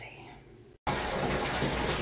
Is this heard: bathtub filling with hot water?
yes